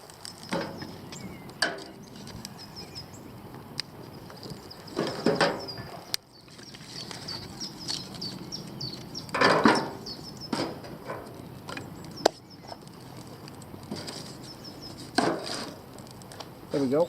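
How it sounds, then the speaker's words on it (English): A ferro rod is struck against a fire lighter outdoors at a carp fishing camp, giving a few sharp, dry scraping strikes spread across the clip, close by over quiet outdoor background. "hit it with a ferro rod"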